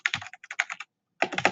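Keyboard typing during a data science coding tutorial: two bursts of rapid, close key clicks separated by a short silent gap, with no voices.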